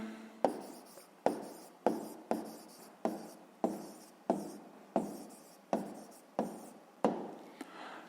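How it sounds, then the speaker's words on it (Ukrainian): Steady close-up writing on paper or a board as an answer for a 6th-grade maths problem is written down: about a dozen regular strokes, each a sharp tap trailing into a scratch, evenly paced and alone. "записуємо тоді відповідь"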